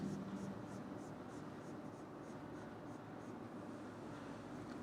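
A pen or marker scratches steadily across a writing surface during a math lesson, a continuous soft scraping with faint rhythmic strokes under low background hiss.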